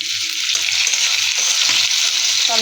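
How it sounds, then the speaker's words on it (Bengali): Chopped tomatoes fry in hot oil over softened onions for a Bengali fish dish, giving a loud, close, unbroken sizzle with a faint low hum underneath and no talking. "টমেটো ভেজে নিব"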